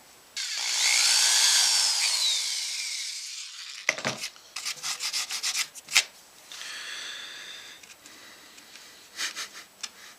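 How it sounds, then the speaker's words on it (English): A high whining drill runs steadily for a few seconds boring holes in a wooden guitar fretboard, then stops and gives way to scraping, tapping and rubbing noises on wood. "you might as well get the drill out"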